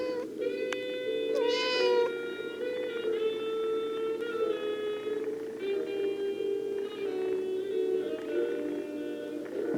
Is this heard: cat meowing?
yes